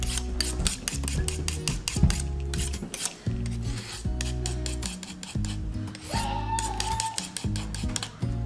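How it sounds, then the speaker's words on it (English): A knife is sharpened in an Alaska home kitchen before cleaning freshly caught burbot, with quick rhythmic rasping strokes, about two per second, loud and close with no talking. "I'm gonna sharpen up this knife so we can go clean the fish for dinner"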